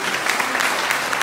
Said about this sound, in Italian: chiedere un applauso alle due curatrici